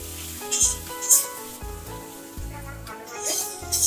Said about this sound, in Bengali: সয়াবিনগুলোকেও আমি ভালোভাবে ভেজে নেব।